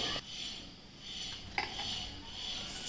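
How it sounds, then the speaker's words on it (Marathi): Mustard seeds, cumin, curry leaves and crushed garlic tempered in hot oil for kadhi, giving a soft steady sizzle with a few clinks and stirring scrapes of a spoon in the pan, close and fairly quiet. "आता कढीला तडका देते."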